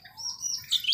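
A caged sooty-headed bulbul (kutilang) gives a quick run of bright, high chirps and twittering notes, close and clear against a quiet background.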